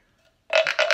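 A person gives a short, loud double burp, imitating a frog in a children's music class, after a brief quiet pause.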